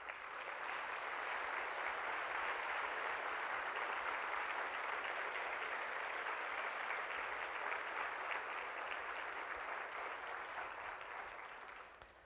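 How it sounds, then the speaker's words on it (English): An audience applauds staff members at a conference opening session, a steady, dense wash of clapping from a large crowd that holds for about twelve seconds before tapering off at the end. "I'd love for the audience to give them a round of applause."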